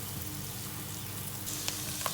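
Canned mushrooms sizzle steadily in a pan while corn soup with crab stick is cooked, a fine continuous crackle with a couple of sharper pops near the end.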